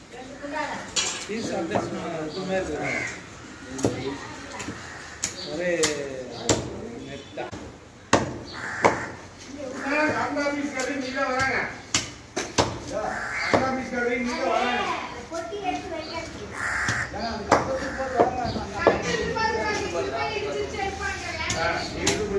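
Fish is cut up at a fish market stall, with repeated knocking chops and clinks of blade on board amid busy background chatter and people talking nearby.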